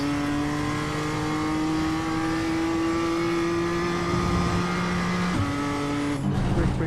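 A BMW M2 in iRacing at Okayama, its engine holding a steady strained note under load before two quick upshifts near the end, loud and continuous from the cockpit.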